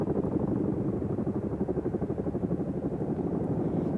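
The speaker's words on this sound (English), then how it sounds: "The Chinook is a tandem rotor heavy lift helicopter that is in the inventory of Indian Air Force" An Indian Air Force Chinook tandem-rotor heavy-lift helicopter at the Vayu Shakti-24 exercise drones with a loud, steady rhythmic rotor thump and low engine roar, continuous and fairly close, with no talk.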